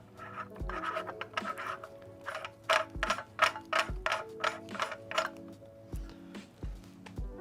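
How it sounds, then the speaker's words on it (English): Metal scraping and ratcheting clicks as a new fiber laser focusing lens is threaded in clockwise, repeated short scratchy strokes with faint periodic low thumps, close and quiet. "We're gonna thread this in clockwise,"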